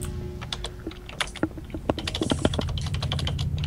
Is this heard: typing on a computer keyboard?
yes